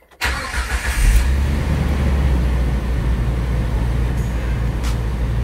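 A Jeep engine cranks briefly and catches, then settles into a steady, loud rumble that continues without talk.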